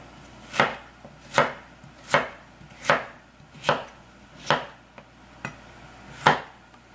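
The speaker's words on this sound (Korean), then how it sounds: "그리고 무는 약간 길쭉한 모양으로 썰어 보겠습니다." A knife chops radish into long strips on a cutting board, eight crisp, evenly spaced cuts at a steady unhurried pace, close and clear with no talk.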